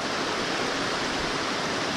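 Creek water rushes steadily in the Idaho backcountry, a dense, even hiss of flowing water that holds constant for the whole stretch with no voices.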